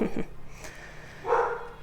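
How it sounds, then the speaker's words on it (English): A dog gives a couple of short barks, loud and close, at the start and again near the end of a brief indoor moment. "The dog is barking for confirmation."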